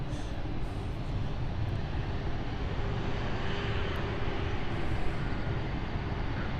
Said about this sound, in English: Listen to those Pratt & Whitney engines.